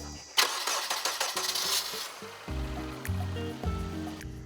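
A car with a discharged battery starting up after repair: a rapid rhythmic cranking that lasts about two seconds, then the engine catches and settles into a loud, steady, slightly fluctuating idle.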